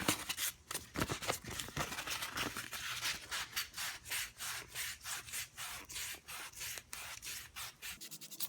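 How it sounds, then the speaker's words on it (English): Sandpaper rubs back and forth over a pitted metal rod on an Atlas 73 drill press, a steady rhythmic scratchy rasping in quick repeated strokes, close and fairly quiet. "I'm going to try to just kind of hit it with some sandpaper and see if that'll help it at all"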